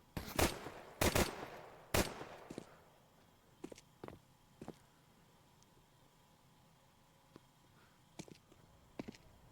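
Several sharp USP pistol shots in a Counter-Strike match, a quick cluster of three or four loud cracks near the start followed by fainter, scattered clicks and footsteps over a quiet game ambience.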